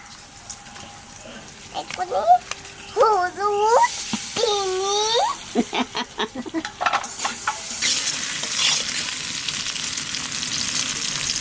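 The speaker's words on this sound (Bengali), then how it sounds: "কলা ভাজা হয়ে গেছে, এখন তুলে নেব।" Oil sizzles as raw banana fries in a pan, with stirring noises and a voice talking briefly over it.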